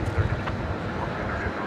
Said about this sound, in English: 747-400, flight number 6714.